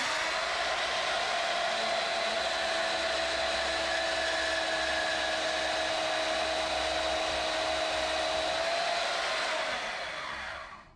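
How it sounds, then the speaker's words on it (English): A Harbor Freight portable band saw on a benchtop stand makes a thin cut through metal tubing, a steady high whining hum running close and unbroken for about ten seconds before winding down. "Let's just make a thin cut on the tubing."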